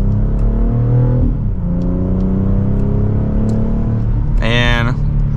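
A 2025 BMW X3 M50i xDrive SUV accelerates hard in sport mode, its engine note rising steadily through the gears with a close, loud rumble, a brief dip at a shift, and a speaking voice over the top.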